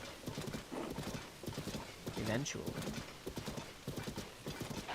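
Horse hooves clip-clop at a steady trot in the video game Zelda: Tears of the Kingdom, with a brief whinny midway, all under nearly continuous conversational talk.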